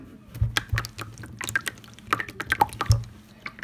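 Slippery, easily spreading slime squished and stretched by hand, giving soft wet, watery clicks and pops in an irregular run of close, moderately quiet bursts.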